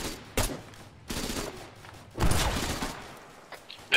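Explosive bursts from grenade launcher fire ring out in an ArmA 3 battle, several booming blasts at uneven intervals with noisy rumbling tails between them.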